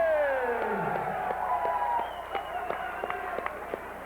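An arena crowd at a wrestling show roars and applauds for Gene Kaniski, a 63-year-old Canadian veteran in singles action. A steady, dense wash of cheering carries scattered sharp claps and whistling cries throughout.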